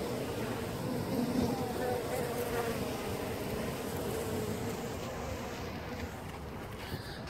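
Honey bees swarming around an open hive, giving a steady dense buzzing drone with wind rumble, close and continuous throughout.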